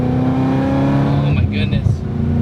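A Corvette ZR1 engine roars loudly with a rising, harmonic drone from inside the car, while a person talks briefly over it near the end.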